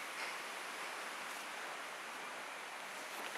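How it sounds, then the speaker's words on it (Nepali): A stream flows beside a hiking trail in Nepal as a steady, even hiss of running water, faint and constant throughout with no voices. "साइडमा खोला नि छ है"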